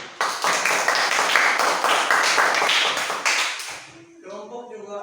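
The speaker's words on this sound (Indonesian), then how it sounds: "Ya, tepuk tangan." Classroom applause, a dense burst of many hands clapping together for several seconds before fading out, followed by a teacher's voice speaking.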